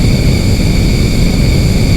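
Airplane engine in the flight game AeroWings 2: a loud, constant droning roar with a steady whine on top, unbroken throughout.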